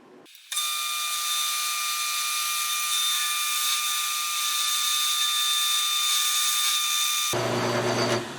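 A power tool cuts a slot in a part of a Stanley 60 1/2 block plane with a loud, steady high-pitched whine that starts abruptly, holds even for about seven seconds, then cuts off into a lower hum.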